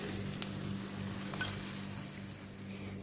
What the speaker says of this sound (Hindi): दोनों साइड से मैंने गोल्डन ब्राउन होने तक फ्राई करना है